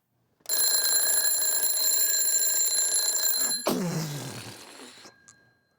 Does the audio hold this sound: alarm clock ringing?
yes